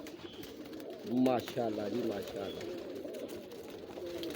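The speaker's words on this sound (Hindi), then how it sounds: "कप्तान जी बड़े बड़े लाजवाब कबूतर हैं" Pigeons coo in a low, soft, throaty rhythm around a pigeon loft, with someone speaking over them for part of the time.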